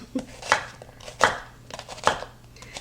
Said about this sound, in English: take your onion and cut it in half, and then just lay it down, and then just cut the rings from there, half rings